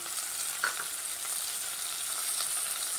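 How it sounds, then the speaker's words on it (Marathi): Onion and tomato fry in a pan for Maharashtrian masale bhat, a soft, fairly faint hiss of cooking with a brief brighter crackle, no voices. "आता कांदा चांगला सोनेरी रंगावर भाजून घेऊया। तर कांदा भाजलेला आहे, तर आता आपण टोमॅटो टाकूया।"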